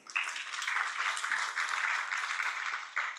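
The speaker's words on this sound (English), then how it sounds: "Please give me a warm round of applause to Ms. Queen Katembu, the CARE International USA representative." Audience applause at a gender symposium following a speaker's introduction, a dense, steady wash of many hands clapping at moderate distance for about three seconds.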